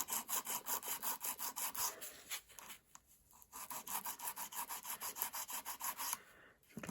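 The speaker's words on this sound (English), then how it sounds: "I don't want to mess this thumb up while I'm filing" Acrylic nails being filed with a hand nail file, a close rhythmic rasping of quick back-and-forth strokes with a brief pause midway, then filing resumes.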